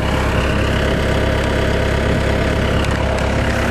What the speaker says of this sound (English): We'll hop in the skid loader, run it, and show you that it does work.